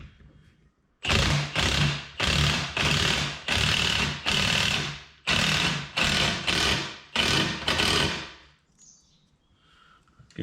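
New Moog ball joints are driven into FJ Cruiser steering knuckles as a series of loud, close, heavy rattling bursts of about a second each, roughly nine in a row with short gaps between them.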